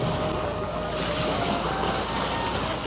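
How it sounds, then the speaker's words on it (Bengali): On the Padma river, a boat comes in with waves, heard as a steady wash of water and wind noise, close and continuous with no talk. "দেখেন একটা নৌকা আসলো মাত্র কি ঢেউ একদম পদ্মা নদীর"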